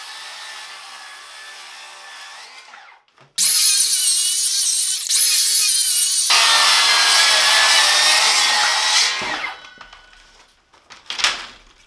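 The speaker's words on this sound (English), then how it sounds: "leave the Diablo 24 tooth blade in the Milwaukee saw" A Milwaukee cordless circular saw with a Diablo 24-tooth blade spins up with a whine, then bites into wood with a loud, sustained ripping roar for about six seconds before spinning down.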